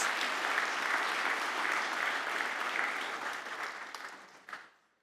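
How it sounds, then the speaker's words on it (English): Applause fills the room at a science awards ceremony in New Zealand, a loud, dense crowd clapping that holds steady and then tapers off to silence near the end. "Give them a big round of applause."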